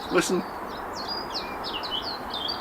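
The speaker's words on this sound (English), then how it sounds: "yes, I hear the birds" Rapid high chirps and twittering bird calls repeat over a steady background hiss, with a brief low voice at the start.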